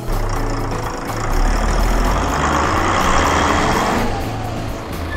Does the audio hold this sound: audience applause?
no